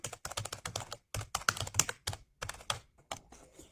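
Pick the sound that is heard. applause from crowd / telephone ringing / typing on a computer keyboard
typing on a computer keyboard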